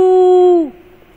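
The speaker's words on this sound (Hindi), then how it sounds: "उ से उल्लू" An owl gives a single long, steady hoot, loud and clear, that drops off abruptly and leaves a faint quiet tail.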